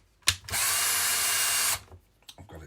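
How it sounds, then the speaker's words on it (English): A battery drill on slow speed boring out a rivet in a roof, one sustained whirring burst of just over a second after a brief click, followed by small clatters. "get a drill that's a little bigger than the rivet"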